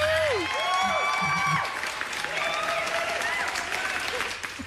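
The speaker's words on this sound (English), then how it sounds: "The good news is bouncing around and everybody's clapping." Audience applause with light cheering from a short video clip played back during a live show, steady clapping throughout under whistle-like tonal sounds and a faint voice.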